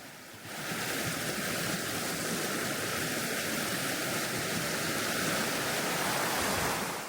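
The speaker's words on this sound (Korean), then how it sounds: "물소리를 들으며 서 있으니 기분이 절로 좋아집니다." Steady broadband rush of the Hantan River flowing near a stepping-stone crossing in a canyon, continuous and fairly loud with no voices.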